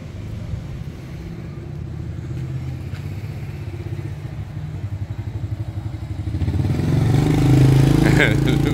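A motorcycle idles on a street in Thailand, its engine putting out a steady low chugging rumble that swells louder toward the end, close by with faint street noise around it.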